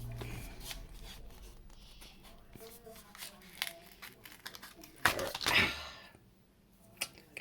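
Crafter's Companion Bethlehem Scene craft kit packaging is torn and crinkled open, with irregular ripping and rustling bursts and a louder tearing flurry near the end.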